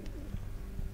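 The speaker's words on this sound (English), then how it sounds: "Pigeons." Soft pigeon coos in the video game Observer, a few low, brief calls over a hum of ambient background noise, faint and somewhat distant.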